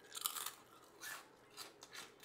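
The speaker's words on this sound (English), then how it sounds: "And they're very crunchy. They have a yummy crunch." Veggie straws being crunched and chewed close to the mouth in several separate brittle bursts spaced through the clip, quiet and crisp with no talking over them.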